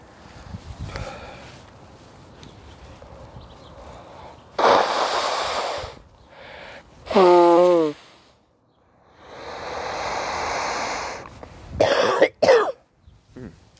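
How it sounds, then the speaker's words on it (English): Several forceful nose blows come in separate bursts, close to the listener, with brief quiet gaps and a short vocal noise between them. "Sorry, I gotta blow my nose."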